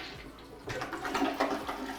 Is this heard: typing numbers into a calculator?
no